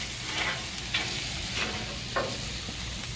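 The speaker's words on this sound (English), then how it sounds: "And spread that around a little bit, give it a little sizzle." Avocado oil sizzles steadily on a hot Blackstone flat-top griddle, a continuous close hiss with a few brief scraping strokes as it is spread around, no talking.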